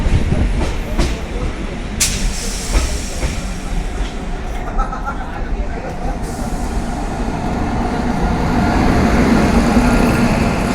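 Shivnath Express rolling past at Kumar railway station near Nagpur, a steady loud rumble with rhythmic wheel clatter and sharp metallic clicks throughout, close by and unbroken.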